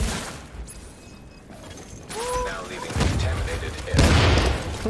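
Bursts of gunfire in The Division on PC come in loud volleys, growing heavier toward the end, with in-game effects and a voice talking between shots.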